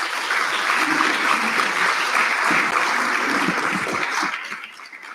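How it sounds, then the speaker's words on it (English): An audience at a national SRC induction ceremony applauds steadily, a dense sustained clapping that holds strong for several seconds before tapering off near the end. "give him a round of applause as he proceeds"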